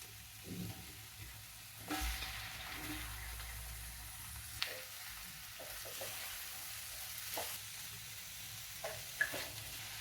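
Chayote pieces and ginger chili paste frying in a pan, a soft, steady sizzle with occasional louder stirring clatters and scrapes spread across the clip.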